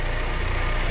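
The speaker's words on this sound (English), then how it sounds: "Winch in." A vehicle winch on a rough outback track in Cape York drones loudly as it hauls in rope, a steady mechanical motor buzz with a rapid vibrating pulse, close and continuous.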